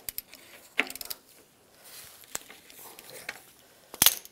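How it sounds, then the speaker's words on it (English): Ratchet with a 29 mm socket working on the radiator sensor of a 1999–2005 Volkswagen Jetta, giving a few sparse close metallic clicks and clacks separated by quiet gaps. "I'm gonna use a 29 millimeter socket"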